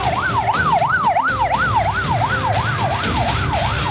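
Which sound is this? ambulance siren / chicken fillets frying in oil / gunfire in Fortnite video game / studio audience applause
ambulance siren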